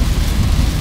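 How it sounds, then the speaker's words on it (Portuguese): Torrential rain pours down in São Luís, a dense, steady roar of heavy downpour with low rumbling, loud and continuous throughout without any voices. "Chuva bem forte."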